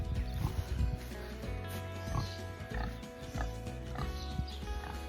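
A breeding boar pig grunts in a livestock barn, with low, fairly quiet grunts repeating irregularly over a constant background hum.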